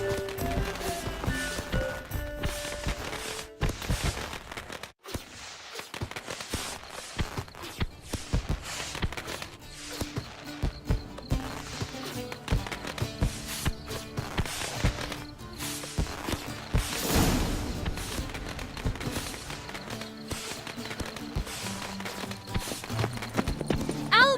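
Horse hooves clip-clop in a steady walking rhythm throughout in The Witcher 3, close and clear, with faint background ambience and occasional rustling.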